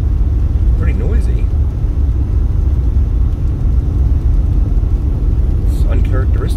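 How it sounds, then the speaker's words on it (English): Steady, loud tire and road rumble fills a car's cabin while it drives along a rough stretch of Interstate 15 near Henderson and North Las Vegas, a constant low roar without a break. "As we can see, this road is a little rough shape. Pretty noisy."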